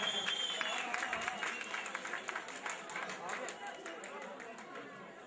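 Guests at a Turkish wedding, gathered for the bride's jewelry-gifting, clap in a soft, distant ripple with a loosely rhythmic pulse, mixed with murmuring chatter and talk across the room.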